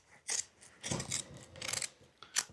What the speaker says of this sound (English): Or you can even just take your scissors like this and cut it